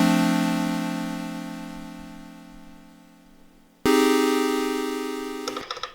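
A first-inversion chord played back on an Elektron Digitakt sustains steadily and slowly fades, then strikes again near the four-second mark and rings before a few short trailing notes, with no talking.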